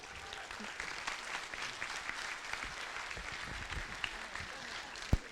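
Audience applause at a French-language meeting, a soft, steady patter of clapping heard from a distance and fairly faint, with one sharp knock near the end.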